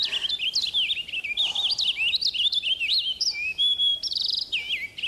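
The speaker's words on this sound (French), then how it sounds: "Un chant de paruline." A warbler sings a rapid, varied series of bright, high chirps and trills, close and clear against quiet surroundings, phrases repeating with short pauses.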